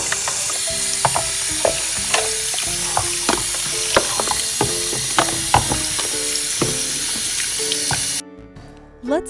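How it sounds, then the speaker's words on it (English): Water runs and splashes steadily over a Y2K M&M Rock'n Roll Cafe candy dispenser as it is rinsed at a sink, with clattering knocks of plastic throughout; the flow cuts off abruptly near the end. "let's give it a good rinse."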